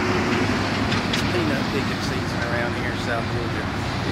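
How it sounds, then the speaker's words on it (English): Loud peanut trucks drive along a road beside a backyard vegetable garden, giving a steady roaring engine and rumbling traffic drone that carries through the whole moment. "loud peanut trucks are all up and down the road."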